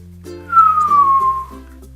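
A single clear whistled note slides gently downward for about a second, close and fairly loud over a quiet low hum.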